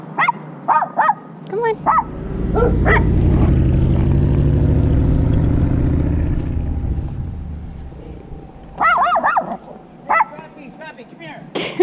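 Escaped neighbourhood dogs bark and yip in sharp bursts near a road, with a car passing loudly in the middle and a person speaking briefly.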